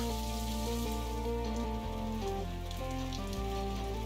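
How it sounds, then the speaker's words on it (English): Steady rain patters continuously in the video game Necrobarista, blended with a soft sustained musical score that shifts chords underneath, with no voices. "Just try and enjoy the rain."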